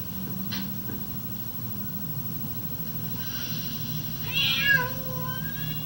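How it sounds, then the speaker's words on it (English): Cat placed in a wooden puzzle box in a learning experiment, giving one clear meow near the end over a steady low hum and background noise, with no talk. "When he placed a cat in the puzzle box for the first time, Thorndike was unable to see any evidence of"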